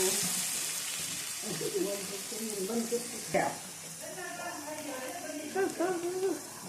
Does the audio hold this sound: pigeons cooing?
no